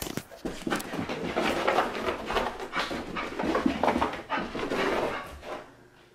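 A pet puppy pants rapidly and whimpers up close, a steady breathy rhythm with soft whines running through it and no talking.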